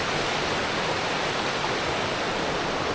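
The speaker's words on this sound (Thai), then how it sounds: "น้ำไหลผ่านลำธาร" Water rushing through a stream near a waterfall beside riverside lodging in Nan, Thailand, a steady, dense broadband roar holding even and loud throughout, with no voices.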